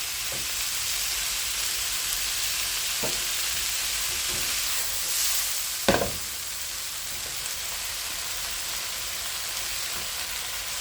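String beans with preserved meat and sausage stir-fry in a hot pan, giving a steady dense sizzle with occasional sharp clatters of the spatula against the pan.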